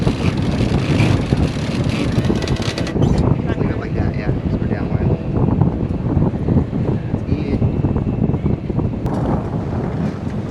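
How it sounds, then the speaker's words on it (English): Strong, steady wind roars across the microphone aboard a sailboat out at sea beyond the harbor, with water and hull noise mixed in, loud and continuous for the whole stretch. "as soon as we got outside, you can see it, the wind just picked up real nice"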